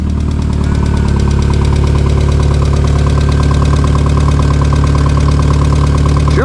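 A Volkswagen MK4 Jetta engine idles steadily and loud, close by, with a rough knocking, a slight valve tap and the rasp of an exhaust leak running through the whole stretch, without speech.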